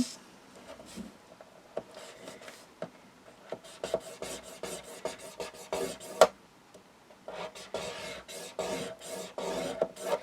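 Folded paper is creased along its score lines by hand, giving soft, close rubbing and rasping strokes in irregular bursts with brief pauses, fairly quiet.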